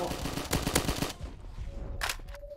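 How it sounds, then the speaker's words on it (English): Rapid gunfire in a Garry's Mod roleplay game, loud bursts of shots in the first second, then a thinner crack and a sustained tone later on. "I just like saw red and started shooting"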